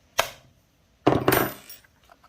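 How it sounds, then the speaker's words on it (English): A small hammer taps a bolt on a 55 clutch cover being modified for a 257/262xp chassis, giving one sharp metallic knock and then a quick cluster of strikes, close and loud, with no voices. "Take a little hammer."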